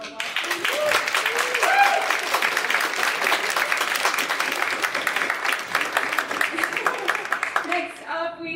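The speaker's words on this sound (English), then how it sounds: "Give a little applause." Audience applause at an Indigenous moving image art symposium, a steady patter of many hands clapping for several seconds, with voices mixed in beneath it and speech resuming near the end.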